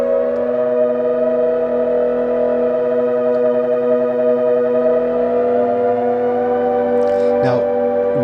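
A Solar 42 synthesizer oscillator drones loudly and steadily while being tuned, its sustained buzzy tone gliding slightly in pitch, with a brief voice cutting in near the end.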